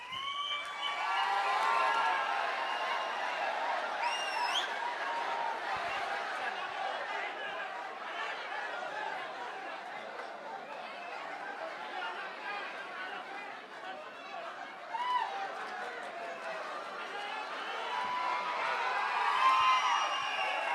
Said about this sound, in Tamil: அரங்கம் நிறைந்த கைத்தட்டல்